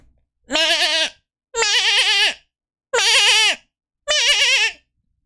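A voice imitates a sheep, giving four loud, separate nasal bleats in an even rhythm with short silences between them.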